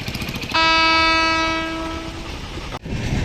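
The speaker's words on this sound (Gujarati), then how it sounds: "ભાવનગર હરિદ્વાર દિલ્હી કેન્ટવાળી આ ટ્રેન છે ભાવનગરને નવી ટ્રેન મળી છે" The Bhavnagar–Haridwar–Delhi Cantt train passing a closed level crossing, a loud sustained horn blast over rumbling wheels, followed by the clatter of the cars rolling past close by.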